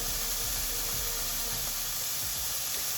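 Sausages seasoned with smoked paprika, salt, pepper, oregano, cayenne, onion and garlic granules sear in a hot pan for a jambalaya, giving a steady, loud broadband sizzle and hiss throughout with no talking.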